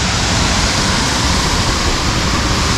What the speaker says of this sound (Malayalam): ആ ഒരു വെള്ളത്തിൻ്റെ സൗണ്ടും